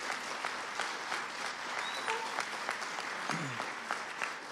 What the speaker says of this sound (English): Please, a round of applause to all these volunteers, employees.